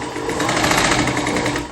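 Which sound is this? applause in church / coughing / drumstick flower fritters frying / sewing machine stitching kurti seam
sewing machine stitching kurti seam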